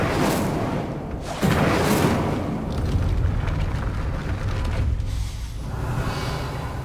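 A fire spell cast in Hogwarts Legacy erupts in a loud burst of flame, followed by sustained roaring, crackling fire and rumble that continues steadily to the end, with no talking.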